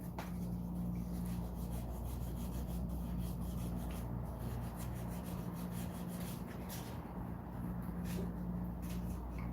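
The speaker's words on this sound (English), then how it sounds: "Let me just get some sanding done real quick." Quiet, steady rasping of sandpaper rubbed back and forth on wood, a continuous scratchy texture over a low hum.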